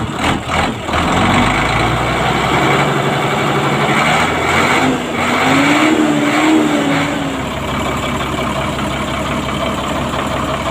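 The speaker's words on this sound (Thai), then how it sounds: "เสียงเครื่องฟิตนะครับ" A Hino FM1M truck's six-cylinder EM100 diesel, nearby and loud, is revved up in a rising, sustained roar, then settles back toward a deep idle, with no talking over it.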